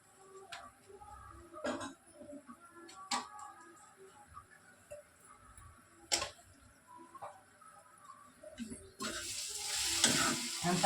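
Gongura pickle mixture is stirred and fried in a pan: a soft, low sizzle broken by scattered sharp clicks and scrapes from the spoon, growing louder and hissier toward the end.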